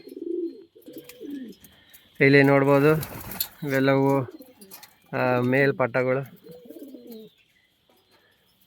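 Racing pigeons in a loft's male section coo in strong, repeated bursts, close and loud, with someone talking in between and over them.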